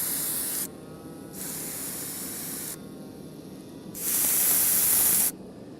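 A fire hose nozzle, angled low to throw droplets far, releases bursts of water spray: a loud broadband hiss that starts and stops in three pulses, the last one longest and strongest, with quieter gaps between.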